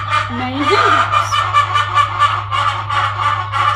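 Hens in a main hen house cluck and chatter close by, one loud hen calling repeatedly in short rhythmic bursts over a constant low electrical hum.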